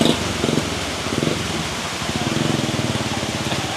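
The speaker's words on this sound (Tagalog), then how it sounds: "Lumalakas pa rin yung ulan" Heavy June rain pours down steadily on a Guimaras road trip, a dense continuous hiss with drumming drops on a surface, loud and unbroken throughout.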